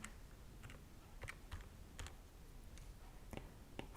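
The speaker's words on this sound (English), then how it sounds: "I'm going to take my calculator and type that in" Calculator keys pressed to enter numbers, a quiet series of irregular light clicking taps over a low background hiss, with no talk.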